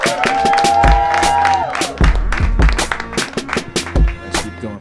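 A comedy club crowd cheers, whoops and claps as the next comedian takes the stage, loud and close, in uneven bursts and swells with a sustained shout at the start.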